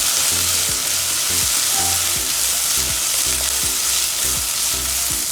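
Steady sizzling of onions sautéing in hot oil, close and continuous, with periodic stirring scrapes and no voices.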